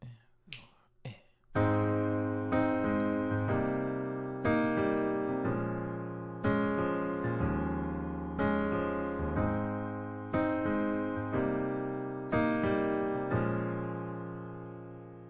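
Piano playing the main riff of a song: sustained chords struck about every two seconds in a steady, unhurried rhythm, each decaying before the next, after a few soft clicks at the start.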